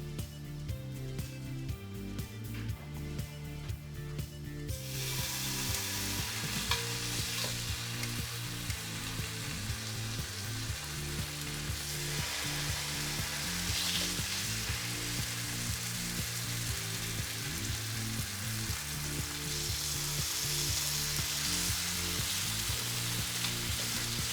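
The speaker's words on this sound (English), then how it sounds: "Fry up some bacon. I'm gonna take several pieces of thick cut bacon." Thick-cut bacon strips fry over medium-high heat, giving a steady, close crackling sizzle that swells after a few seconds and runs on unbroken, with spitting pops and no talk.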